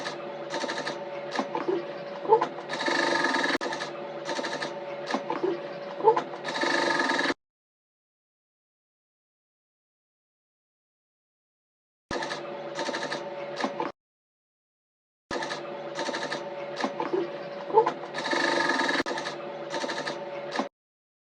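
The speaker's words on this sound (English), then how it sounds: "we'll go ahead to sew it down until we get to the other end" Sewing machine stitching down horizontal bonings on a cape, running in close, rhythmic bursts separated by short silent gaps.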